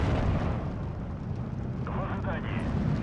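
Nebelwerfer rocket artillery in the WW2 strategy game Steel Division 2, heard as a continuous heavy rumble of explosions, loud and dense, with a voice speaking briefly over it.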